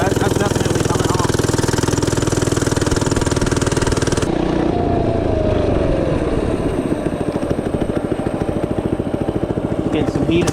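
An FRP GMB-100 minibike engine runs loud and close, with a buzzing mid-pitched drone and a steady pulsing beat that shifts in tone partway through as it warms up.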